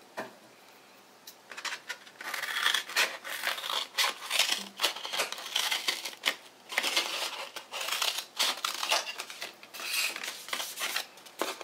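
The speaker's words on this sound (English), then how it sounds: "And then what we're going to do is cut the paper plate." Scissors cutting through a paper plate at a children's library craft session, heard as a steady run of close snips and crunchy paper rasps over about ten seconds, with no talking.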